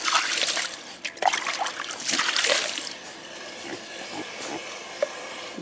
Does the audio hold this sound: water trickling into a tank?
yes